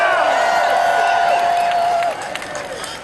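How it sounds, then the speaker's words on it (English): A crowd at a 2017 Seattle rally and march demanding Trump's tax returns cheers loudly, with sustained whoops and yells that fade slightly near the end. "Put your hands up, cheer with me."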